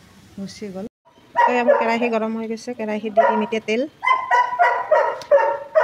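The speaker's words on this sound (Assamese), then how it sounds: "আপোনালোকে শুনাই পাইছে, মোৰ ঘৰত কুকুৰ আছে, কুকুৰটো ভুকি আছে।" A house dog barks and yelps at home in several quick bursts, close and loud, mixed in with someone talking while she cooks in a kitchen.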